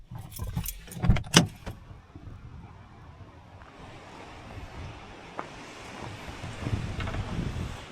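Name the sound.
strong wind at a lake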